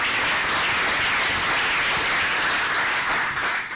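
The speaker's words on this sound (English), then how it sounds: "let's give him an applause as well" A conference audience at an IETF update session applauds a presenter with a steady, full wash of clapping that holds evenly throughout and tapers only slightly at the end.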